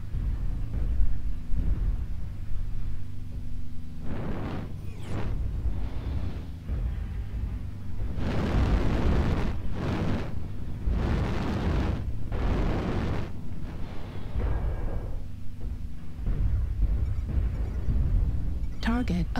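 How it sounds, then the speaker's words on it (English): Artillery strike explosions rumble in a video game as a series of deep, booming bursts that roll and overlap, loudest in a cluster near the middle, over a constant low background drone. "Artillery strike online."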